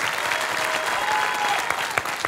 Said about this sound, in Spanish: El aplauso para José.